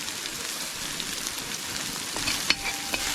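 Green chillies and salt sizzle in coconut oil in an uruli, a steady close frying hiss with a few sharp pops near the end, no voices.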